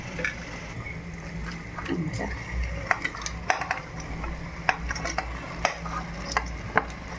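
Goat head pieces are tipped into hot oil spiced with clove powder and stirred in a pot for an Agri-style rassa, with scraping and clinking strokes over a low sizzle, ending in sharp, evenly spaced metallic taps.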